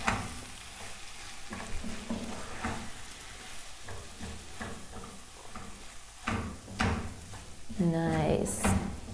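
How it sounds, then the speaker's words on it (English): Spiced chickpea pancake mixture sizzles in a hot pan while a utensil stirs and scrapes in irregular strokes, with a person talking over it and a few clattering knocks near the end. "Give it another stir"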